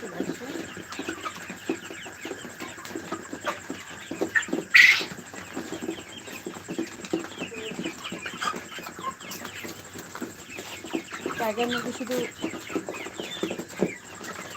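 Tiger-breed chickens cluck and call in a pen, with scattered bird noises and a brief louder squawk near the middle. A person talks over them throughout.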